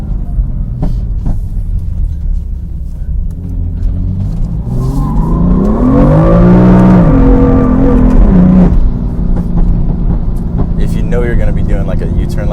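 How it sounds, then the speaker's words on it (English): Modified BMW M3 engine heard from inside the cabin, revving and rising in pitch as the car swings through a drift U-turn, then dropping back; the loud engine note fills the clip throughout. "I'll do a little U-turn, drift right here."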